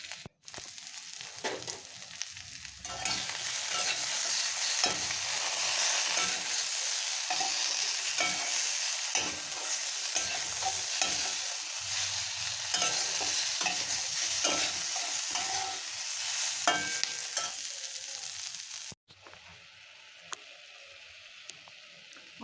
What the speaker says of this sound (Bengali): পেঁয়াজটাও এইভাবে ভেজে নিতে হবে।